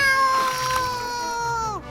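A cat lets out one sustained, wavering meow that bends downward at the end, close and fairly loud, with no talking over it.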